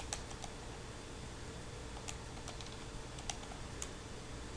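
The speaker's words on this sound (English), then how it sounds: "I'm going to type it in." Key presses tapping numbers into a calculator, a steady run of light clicks at close range over a low background hum, with no talking.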